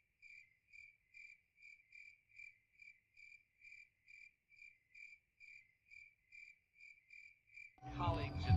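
Crickets chirp in a steady, evenly spaced rhythm of short pulses in a quiet night setting within the game Project Zomboid, ending in a sudden loud burst of noise.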